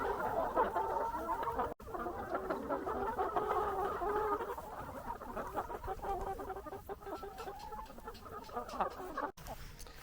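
Laying hens on pasture cluck and murmur continuously at close range, a busy flock chattering with occasional sharper calls.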